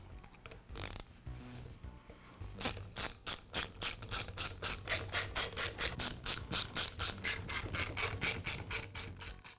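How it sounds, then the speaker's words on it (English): Cap coming off a DeWALT finish nailer during an O-ring repair: a quick clatter, then a steady run of about twenty close, sharp rhythmic clicks like a ratchet, fairly loud and alone. "I'll begin by removing the cap from the nail gun"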